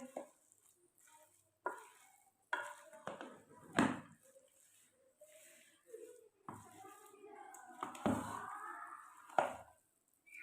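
A spoon stirs garam masala into a cooking mixture for a karela burger, making intermittent scraping knocks against the pan with a soft sizzle between strokes. The sounds are close and quiet, with pauses between them.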